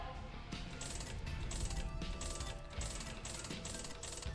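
Coins are donated into a machine in The Binding of Isaac, a busy run of rapid metallic clinks and ratcheting clicks in a steady rhythm over game sound, with no voices.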